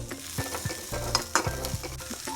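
Onions fry in oil with a close, crackling sizzle as a utensil stirs them, giving a few quick scraping knocks over the steady frying noise.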